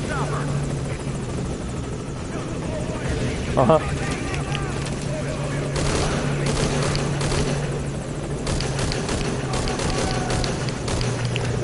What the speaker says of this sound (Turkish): Helikopter atış ediyorlar